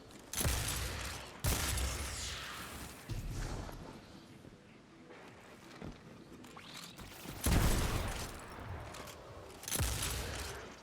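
Shotgun blasts in the video game Destiny, fired in quick succession as single rounds are loaded, giving a series of loud booming shots spaced a second or two apart over background game sounds.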